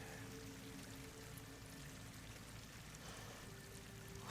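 Water pours in during a scene in the video game Horizon Forbidden West, a soft continuous splashing trickle with faint tonal hum beneath, quiet and even, rising briefly at the very end.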